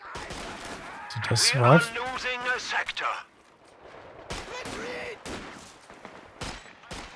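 Machine gun bursts and other gunfire in a Company of Heroes 2 multiplayer match. A commentator talks over the start, then sharp rapid shots crackle through the second half.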